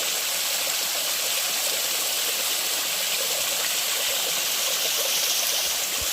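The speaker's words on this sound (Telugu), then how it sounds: "ఇలాంటి కొండవాగుల నుండి వచ్చే నీటిని ఒడిసిపట్టి మా గిరిజనులు అయితే తాగడానికి అయితే ఉపయోగిస్తారు" A hill stream tumbles through dense forest near a tribal village, a steady, close, full rushing flow of water that continues without a break and with no voices over it.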